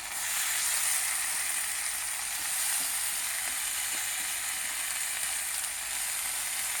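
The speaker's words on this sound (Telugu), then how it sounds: "ఇప్పుడు కలిపేసి టమాటా పళ్ళు వేసేస్తున్నానండి" Tomatoes stirred into a frying pan of chama dumpalu (taro root) pulusu give off a steady, close sizzling hiss that runs the whole time, with faint stirring and no talking.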